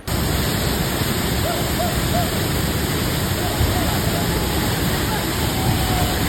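A waterfall at Nitawade, one of seven falls on a rainy-season trip, roars as a dense, constant wash of noise, loud and steady, while people talk faintly over it.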